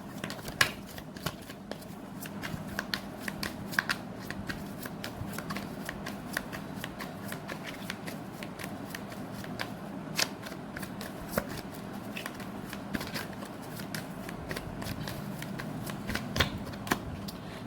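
A deck of tarot cards being shuffled continuously by hand, a dense run of soft riffling and sharp card snaps repeating steadily for many seconds, close and moderately quiet with no talking.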